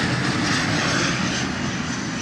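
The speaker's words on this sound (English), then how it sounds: "There's an airplane going by." An airplane passing overhead outdoors near sunset, a steady broad engine roar that stays loud and even throughout, with no talking.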